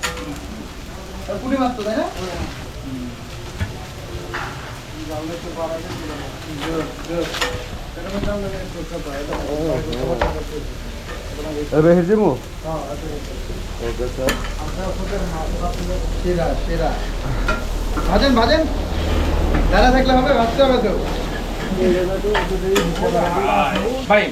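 Puti fish (small barbs) frying with oil and turmeric in two pans at a busy fish eatery, steady loud sizzling with repeated stirring scrapes throughout, while people talk over it.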